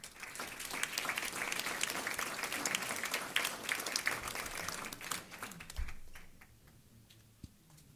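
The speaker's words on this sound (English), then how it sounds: "Big round of applause for Elkins." Steady crowd applause at a school board meeting, honoring a high school choir, a dense patter of many hands clapping for several seconds, then fading out toward the end.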